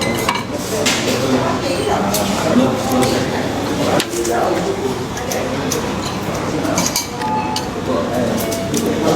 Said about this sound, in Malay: Saya tengah makan nasi goreng ni.